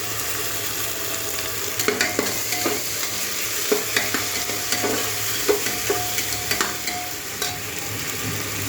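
Ginger garlic paste sizzling in a pan with already fried onions, a loud continuous frying hiss broken by regular scraping knocks of a spatula being stirred, close up and with no one speaking.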